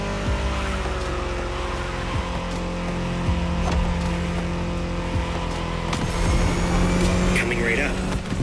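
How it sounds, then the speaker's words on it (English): BMW M4 Liberty Walk Edition racing in The Crew Motorfest video game, a steady loud engine drone with tire squeal and skidding, while a voice talks over it. "Back with the BMW M4 Liberty Walk Edition."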